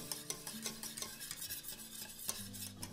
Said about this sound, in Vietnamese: Và liên tục mình lấy cái phới lòng mình khuấy.